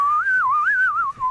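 A person whistles a wavering, sliding melody, loud and close, with no talking.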